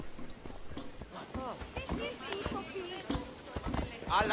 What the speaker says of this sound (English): we will be riding atop the mighty mythological horse known as Pegasus